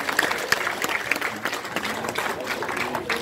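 Audience clapping at a Rwandan wedding-type family ceremony, a dense burst of applause with a voice speaking over it, fairly close and sustained.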